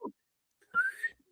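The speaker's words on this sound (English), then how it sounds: "it's hard to whistle with the hair." A person whistles a short rising note, clear and close, preceded by a brief vocal sound and followed by a faint trailing whistle.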